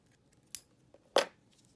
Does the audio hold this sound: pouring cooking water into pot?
no